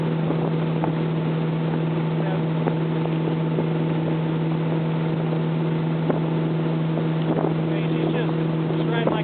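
A motorboat cruises at about 2,400 RPM and roughly 18 mph, giving a steady, droning engine hum mixed with wind buffeting the microphone, continuous and close throughout.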